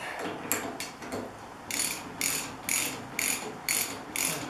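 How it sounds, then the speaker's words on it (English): A ratchet tightens a nut on a Jaguar E-Type Series I fuel tank grommet. Close, crisp clicking strokes repeat at a steady rhythm, about half a second apart, with no talking. "I'm going to take a appropriate size nut and screw it on, and I'm just going to tighten it down a little bit"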